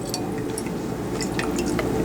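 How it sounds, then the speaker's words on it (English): Deionized water rinses a pH meter probe in a lab, giving a continuous close trickle and splash of liquid with small drips. "She's going to rinse it off with DI water"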